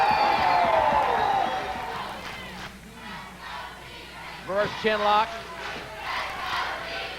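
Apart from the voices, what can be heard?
wrestling crowd cheering behind the challenger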